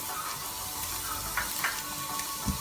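Carrot, beans and green chilli stir-fry for restaurant-style chicken fried rice, a steady close sizzle of frying throughout with a few soft scraping and stirring clicks near the end.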